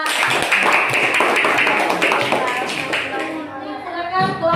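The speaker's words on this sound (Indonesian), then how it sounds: "Iya, tepuk tangan untuk kelompok 3." Classroom group applauding a student team after their presentation, a dense burst of clapping from many hands that fades toward the end, with a voice speaking over it.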